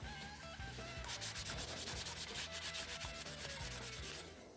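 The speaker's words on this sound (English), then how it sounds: "Then I'll do one more polishing on it," A chrome-finished action figure part is hand-polished with steady, rhythmic rubbing strokes, a quiet continuous scratchy friction that carries on without pause.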